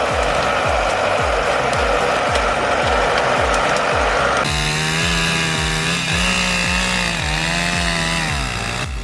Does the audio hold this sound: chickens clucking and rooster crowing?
no